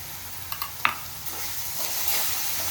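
Onion with ginger-garlic paste frying in a pan, a steady soft sizzle with a few sharp spoon clicks near the start, close and fairly quiet with no voices.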